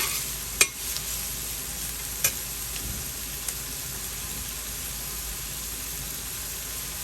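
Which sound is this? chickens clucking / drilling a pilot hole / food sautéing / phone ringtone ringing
food sautéing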